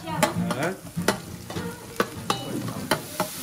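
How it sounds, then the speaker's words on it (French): Onions frying and browning in a pan, with a steady sizzle broken by repeated sharp scrapes and clacks of a spoon stirring them, close and clear. "Commencez avec les oignons, bien Bien dorer les oignons là"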